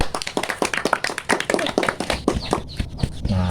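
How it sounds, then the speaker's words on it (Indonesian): Children clap in quick, uneven bursts close by during a home-visit science lesson. The clapping runs steadily for a few seconds, then fades, and a brief voice follows. "Tepuk tangan buat kalian."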